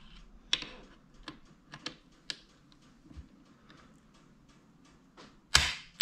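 Torque wrench clicking as it reaches setting while tightening steel steering damper bolts into an aluminum casing on a Ducati Hypermotard 1100, a few sharp separate clicks spaced apart, with one louder click near the end.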